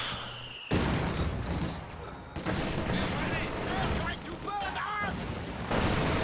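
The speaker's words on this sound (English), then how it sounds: "Nasty mortar shot wipes that squad." Mortar blasts and machine gun fire from the WWII strategy game Company of Heroes 2, where an MG42 suppresses infantry, sound as a dense, continuous roar of booming explosions and rattling gunfire under a commentator's talk.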